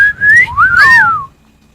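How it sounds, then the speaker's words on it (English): A person whistles a catcall, a loud, close, rising-then-swooping two-part whistle heard alone with no talk. "Can you like- cat call?"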